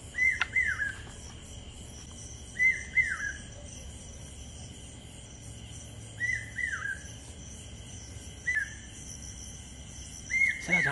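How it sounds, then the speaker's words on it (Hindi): A bird chirps at night in short, bright calls that come in a few separate bursts, fairly distant and faint, over a quiet backdrop of insect hiss, with no talking. "सर रात में चिड़िया कहाँ से बोलने लगी?"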